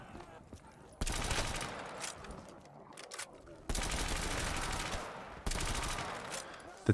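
A Thompson submachine gun rattles off long automatic bursts in Black Ops 3 Zombies, three sustained volleys separated by short pauses with faint background clatter, fairly close and loud.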